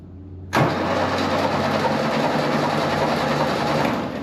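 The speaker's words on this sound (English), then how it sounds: "Starter's working." A starter motor cranks a VW dune buggy engine with its spark plugs removed, starting abruptly and then whirring steadily and loudly without firing, close by.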